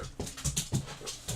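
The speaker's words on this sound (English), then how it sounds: "He's a goofy little dog." A small goofy dog panting and whimpering up close, quick rhythmic breathy pants mixed with soft high whines, fairly quiet and without talk.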